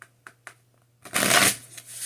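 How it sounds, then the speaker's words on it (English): Tarot cards being shuffled up close: a few light taps of the deck, then a quick riffling flutter lasting about half a second, followed by softer settling sounds, with no talking. "Okay, I'm going to shuffle"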